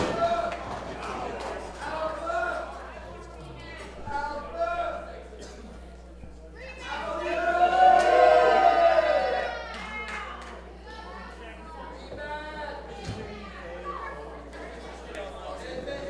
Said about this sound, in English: the crowd really showing their support for LDJ and Sawdust